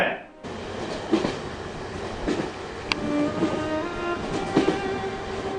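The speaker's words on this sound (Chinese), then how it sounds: "他好像是在火车上，我听见了火车的声音。" A passenger train running on rails, heard over a phone line as a continuous rumbling rattle with rhythmic clacking thumps and a few sharper knocks, fairly close and steady.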